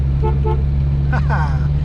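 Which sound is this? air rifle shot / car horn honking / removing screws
car horn honking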